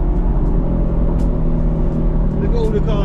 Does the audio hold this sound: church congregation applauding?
no